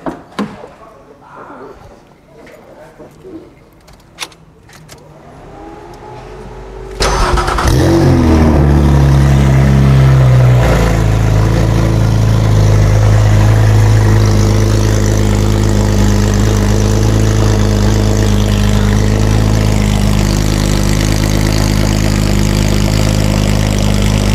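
A Porsche Cayman rally car fires up after quiet shuffling, its engine catching with a loud burst, briefly revving, then settling into a steady, rumbling idle that carries on close and loud to the end.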